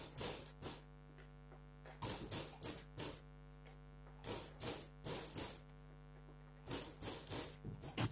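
A sewing machine stitching the corners of a blouse back neck runs in repeated short bursts with brief pauses, over a steady electrical hum.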